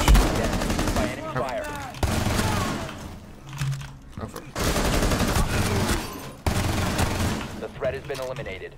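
Rapid automatic gunfire in Rainbow Six Siege, with loud sustained bursts broken by short pauses, mixed with game voices and a player talking over it.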